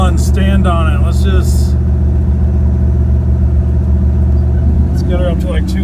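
A small block Chevy 350 car with a Turbo 400 transmission drones loudly and steadily under hard throttle, a close, continuous engine roar throughout while people talk over it.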